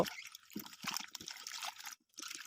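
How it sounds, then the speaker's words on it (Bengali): Cut sweet potato pieces washed under water, with close splashing, trickling and sloshing in a bowl, broken by a short pause near the end before the rinsing resumes. "এবার মিষ্টি আলুগুলোকে কাটার পরে ভালো করে জল দিয়ে ধুয়ে নেব"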